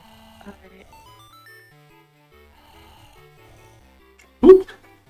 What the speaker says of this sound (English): the snoring sound effect is Talon, the ranch Melon's dad, from Ocarina of Time